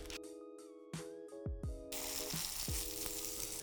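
Salmon burgers placed on a hot grill pan over medium heat, with a few sharp clinks and knocks, then a steady loud sizzle that rises and stays, with no talking.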